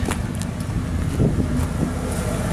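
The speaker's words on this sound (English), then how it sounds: "Truck's running right now." A Ford F-150 pickup with a new dual-tip exhaust idles outdoors after rain, a steady low engine rumble with some wind noise across the microphone, no talking.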